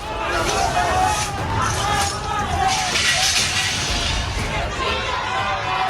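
Thousands of protesters crowd the streets of Morelia in Michoacán, Mexico, in a violent demonstration. A loud, dense roar of shouting voices and babble carries on steadily throughout.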